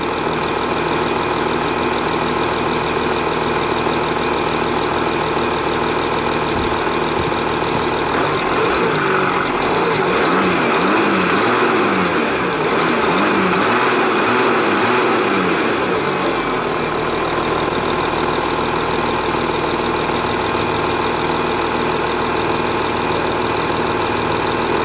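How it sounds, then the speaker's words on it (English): A 2016 Volkswagen Touareg 3.0 V6 TDI diesel heard from the open bonnet, idling steadily then revved for several seconds mid-way before settling back to a smooth, fairly quiet idle. "No dobra, i teraz zobaczymy, jak to brzmi od strony maski. Przygazujemy kilka razy."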